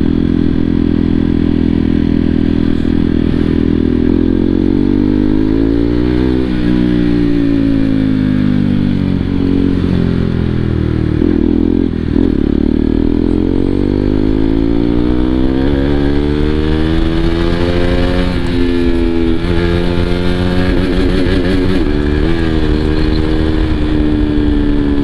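KTM RC200 motorcycle being ridden: a loud, close engine roar that rises and falls through repeated revving and gear changes, with wind rush over it and no talking.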